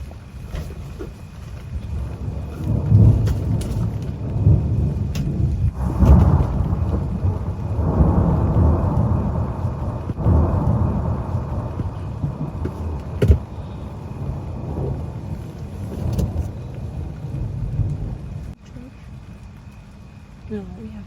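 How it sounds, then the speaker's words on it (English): A thunderstorm with rain and quarter-size hail drums around an RV near Devils Tower, low rolling thunder rumbling steadily beneath a continuous wash of rain while people talk over it. "Quarter-size hail, obviously thunder and lightning."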